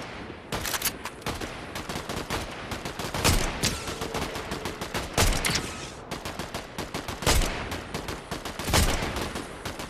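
Repeated gunfire in Fortnite, loud sharp shots and quick automatic bursts firing close by throughout, with irregular spacing and some heavier blasts among them.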